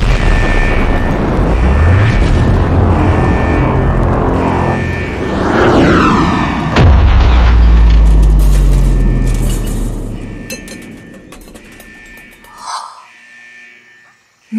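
A loud, rumbling cartoon explosion of a star swelling to a supergiant, the roar swelling and booming, holding for several seconds before fading into near silence, with a faint thud at the end.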